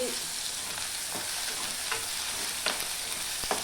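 Mustard seeds, cumin, coriander and mint are tempered in hot oil for a boti curry. A steady, dense sizzle carries occasional small crackles and pops, close by, with no talking.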